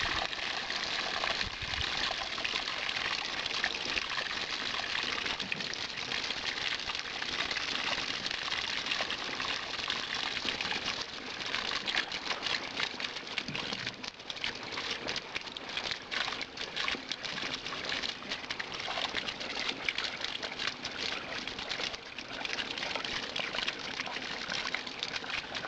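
Spring water runs from a hose through a cloth filter into a water jug, making a steady, soft, continuous trickling and splashing that holds at an even level throughout with no voices.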